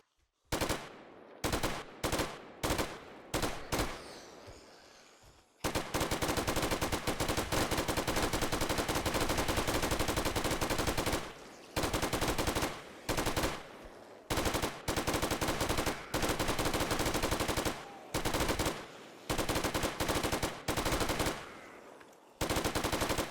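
Light machine gun in a 7 Days to Die mod game firing loud, sustained automatic bursts, first several short separated volleys, then long continuous strings broken by brief pauses, with no talking.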